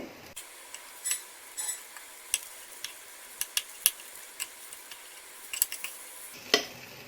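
Stuffed brinjals cook in a covered pan and are turned over, with a faint low sizzle under scattered sharp clinks and taps of a utensil against the pan and lid, close and quiet, with no talk.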